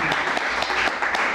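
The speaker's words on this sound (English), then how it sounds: "Let's give Mr. William Alexander Fields a great round of applause" An audience claps for a poet at a 1998 Bayview poetry reading, a short burst of steady, dense applause from a room full of people.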